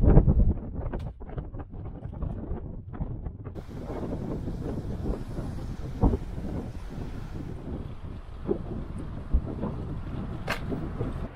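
Strong gusting wind on a cold November day in Brodick, Isle of Arran, buffets the microphone with a low rumbling roar, steady throughout with occasional sharper gusts, no voices.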